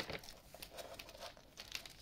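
Plastic bag of bark mulch crinkling while bark is sprinkled over a potted plant, soft close rustles and crackles in quick irregular bursts.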